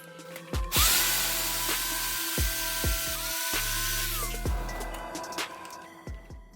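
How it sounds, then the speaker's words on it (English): A power tool grinds an electric bike frame of a 25 kW Yozma build to widen an opening for clearance, a loud close whine that starts, bogs and restarts in several bursts, and no one speaks. "Just took a little bit of grinding"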